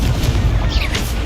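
Incendio fire spell cast in the video game Hogwarts Legacy, a loud, dense whooshing burst of flame with a booming low rumble lasting the whole short moment.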